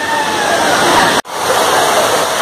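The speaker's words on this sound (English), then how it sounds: "There's a waterfall there." A steady, full rush of falling water from a mountain waterfall at Neral, Anantwadi, fills the clip, broken by a brief dropout in the middle.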